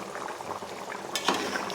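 Soft, continuous bubbling of a thick chicken and jackfruit curry simmering in a pot, with a brief louder burble near the end.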